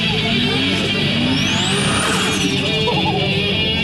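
A Toyota Supra Turbo and a Dodge Viper accelerate hard in a quarter-mile drag race, a loud, continuous engine roar with rising whine and strained mechanical tones.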